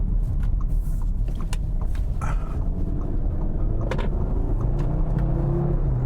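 Steady road noise and low engine hum of an Audi RS Q3 cruising at highway speed in comfort mode with the exhaust flap closed, a constant broadband rumble with faint tire whine throughout.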